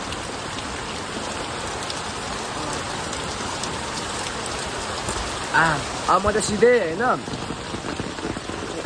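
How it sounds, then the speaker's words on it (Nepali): Heavy rain pouring down steadily, a dense, loud patter on surfaces throughout, while someone talks briefly over it near the end. "पानी त डह्रो परिरहेको छ के हो झरी नै लागेको हो"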